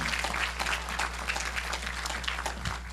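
Brief applause from a gathered audience honoring the technicians, a dense patter of clapping at moderate volume over a low steady hum.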